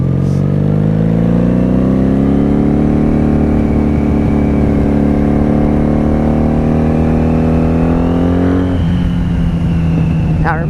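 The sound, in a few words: 1997 Honda Magna VF750C motorcycle engine while riding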